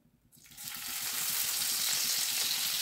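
Chopped onion hits hot oil in a wok, a quiet start jumping into a loud, sustained crackling sizzle that holds steady, with no talk.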